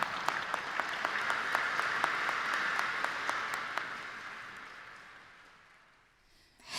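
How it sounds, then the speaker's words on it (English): An audience at a mantra chanting festival claps in a sustained round of applause, steady and fairly loud, then tapers off and fades toward the end before a brief rise. "Everyone, please give a big round of applause to Kim Min-seo and her mother Kwon Jung-yoon."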